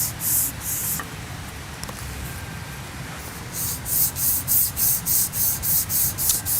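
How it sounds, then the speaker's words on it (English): Wire brush scrubbing oxides off a titanium weld, first as a steady close rasping and then as a quick run of rhythmic back-and-forth strokes near the end. "Now what I'm doing here is I'm just brushing the oxides off and any formation of an oxide that was left on the material."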